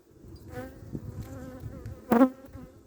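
Honeybees buzz close by at a split hive in a low, continuous hum, with one louder buzz passing near the microphone toward the end.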